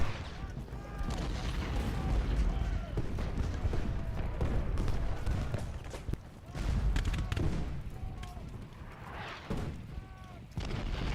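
Cannon and musket fire on a Gettysburg battlefield in the video game Ultimate General Gettysburg, a dense, continuous rumble of booms and volleys throughout, with someone talking over the battle noise.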